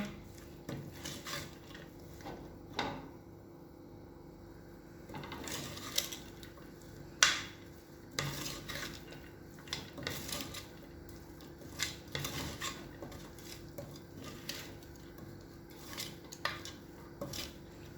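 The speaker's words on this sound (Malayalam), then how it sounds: "നമുക്ക് നല്ലപോലെ ഒന്ന് ഇത് മിക്സ് ആക്കി കൊടുക്കാം കേട്ടോ" Soft scraping and rubbing of a utensil stirring dal khichdi in a pot, with intermittent clinks and rasps at an unhurried, irregular pace, close by.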